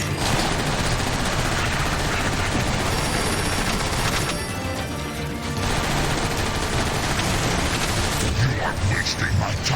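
Rapid sustained gunfire and blasts in Transformers: War for Cybertron as Autobots shoot at Trypticon's dorsal power cores, dense and loud for most of the stretch with a brief lull midway.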